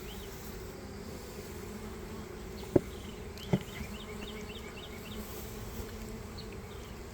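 Honey bees hum steadily around mating nuc hives, a low, continuous buzz close by that runs throughout, with a couple of sharp knocks partway through and faint bird chirps high above.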